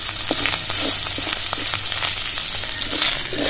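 Ginger paste, ground cumin and turmeric fry in a pan for Bengali moong dal with bottle gourd, giving a continuous close sizzle broken by frequent scraping clicks as the spices are stirred.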